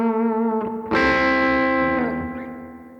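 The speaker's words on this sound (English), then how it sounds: "If we put a tube screamer on and go back to the neck" A Les Paul Custom electric guitar on the neck pickup through a Tube Screamer overdrive strikes a chord that rings out with a warm, gritty crunch, then slowly decays; a softer note precedes it.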